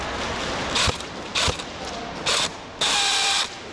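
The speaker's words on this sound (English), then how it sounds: "the SR25 started to sound a little weird" A faulty SR25 airsoft gun mechanism gives four separate mechanical bursts, the last one longer, each a harsh whirring rattle set against a low background hiss.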